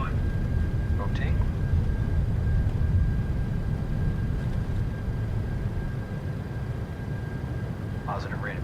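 Boeing 737-800 converted freighter jet engines roaring steadily on the takeoff roll, a loud, constant broadband rumble heard from the cockpit, with brief cockpit voices over it.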